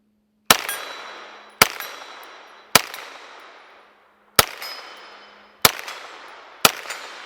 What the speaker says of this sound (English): let's shoot some more of these tracer rounds